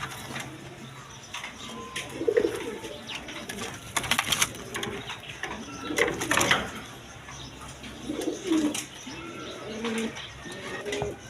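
A pair of Danish pigeons cooing in repeated soft rolling calls, close by, over a busy background of rustling and scattered clicks.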